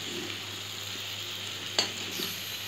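Raw mango pieces for a sweet pickle cook on a low flame, giving a soft continuous sizzle with a single sharp utensil knock partway through and no talking.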